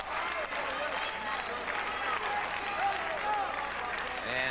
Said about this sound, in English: the crowd continues to clap and shout its approval of the Nightmares in this Continental Tag Team Championship match